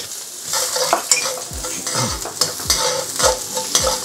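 Finely chopped ginger and crushed garlic frying in a pan, a loud bright sizzle with repeated rhythmic spatula scrapes and knocks against the metal, close and unaccompanied by speech.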